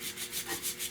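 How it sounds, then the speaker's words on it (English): Hand sanding a car taillight bezel from a 1970 Buick Wildcat: rhythmic back-and-forth rubbing strokes, about five passes in a second, soft and close, with no talk. "I'm just hand sanding this"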